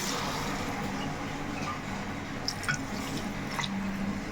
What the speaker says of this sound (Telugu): వాటర్ కూడా వేసేసుకుందాం